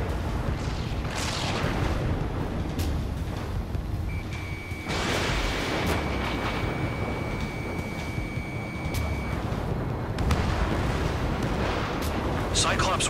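Dense, roaring air-combat game sound from Ace Combat 7, Mission 07 'First Contact': missile launches and explosions form a constant rumble with repeated louder booms, and radio voices talk over the action.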